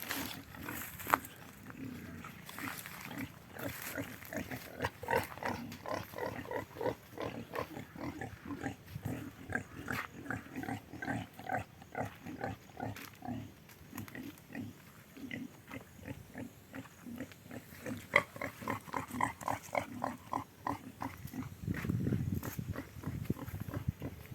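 A pig grunts and snorts in a steady run of short, rhythmic bursts, close and fairly faint, with a louder squeal-like swell near the end.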